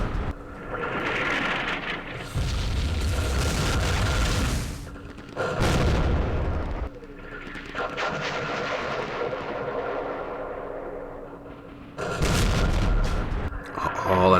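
105mm artillery fires in the Campaign Series Vietnam war game, heavy booming blasts with rumbling, thunder-like decay arriving in several waves of loud impacts.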